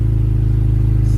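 A BMW E36 with a swapped-in S54 engine, warm and running with a raspy exhaust, drones steadily and loudly at a held rev, close to the microphone.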